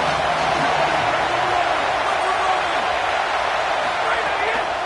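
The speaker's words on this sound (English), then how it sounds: "Here comes the noise from this big crowd in Happy Valley on 3rd down." Big stadium crowd at a Penn State football game against Texas Tech in Happy Valley roars on third down, a loud, sustained wash of massed voices that stays steady throughout.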